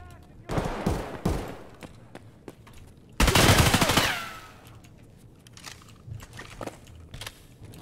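Heavy gunfire in an Escape From Tarkov firefight: a few sharp early shots, then a dense, loud burst of rapid automatic fire that tails off, followed by scattered quieter noises.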